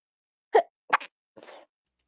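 Three quick sneezes burst out close by in an otherwise quiet room, evenly spaced over about a second, the first the loudest and the last softer and more breathy.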